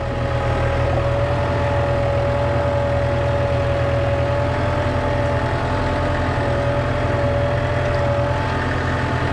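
A tractor engine runs steadily while reversing, a continuous mid-low drone with a faint sustained whine on top, no talk.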